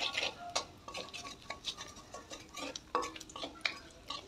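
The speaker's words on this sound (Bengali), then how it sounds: "তারপরে ওই তেলে একটি শুকনো লঙ্কা আর গোটা সাদা জিরে আমি ফোড়ন দিয়ে দিলাম।" A dried red chilli and whole cumin seeds temper in hot oil left from frying pangas fish, with repeated metal spatula scrapes and clinks against the pan over a faint sizzle.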